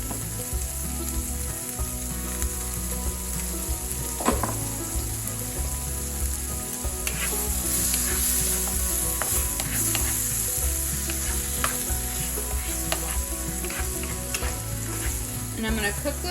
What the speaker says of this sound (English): I'm going to cook those down until the peppers are soft and the onions are translucent